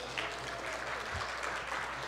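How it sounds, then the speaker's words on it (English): Church congregation clapping, a brief steady patter of many hands heard close and evenly throughout. "now you can clap for all of them"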